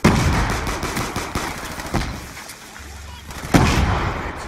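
A C4 explosion and gunfire ring out in Call of Duty: Black Ops II, with dense, loud shots and blasts throughout and a sharp burst near the end.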